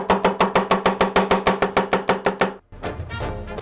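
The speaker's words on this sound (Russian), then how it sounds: "Мелко крошим зубчик чеснока." A knife chops a garlic clove quickly and evenly on a board, about sixteen sharp close strikes, then stops and leaves a soft rustle.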